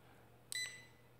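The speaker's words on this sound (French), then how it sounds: "Là, il y a un bip, c'est le premier niveau." A Deteknix Xpointer pinpointer metal detector gives a single short, bright electronic beep when its mode changes, faint and alone in a quiet room with a low hum underneath.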